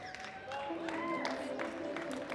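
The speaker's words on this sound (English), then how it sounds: "giving these ladies a round of applause as they follow Susan, the technical controller, off the platform" An audience at a world classic powerlifting championship applauds as women lifters leave the platform, a soft, distant sustained clapping and crowd murmur mixed with background voices and tones.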